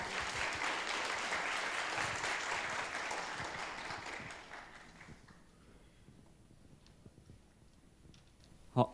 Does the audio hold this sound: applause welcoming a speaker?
yes